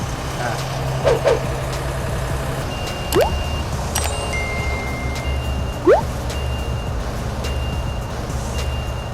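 Genie Z60/34 articulating boom lift running with a steady low engine rumble, broken by intermittent tonal warning beeps and a few short rising chirps, with no talk.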